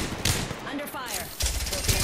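Incoming gunfire in an Apex Legends match, dense rattling automatic bursts crowding the whole moment with a brief lull midway before the firing swells again, mixed with game effects and a voice.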